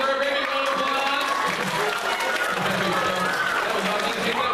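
A school-show audience claps for a middle school student, loud sustained applause with crowd noise, while a voice talks over it through most of the stretch.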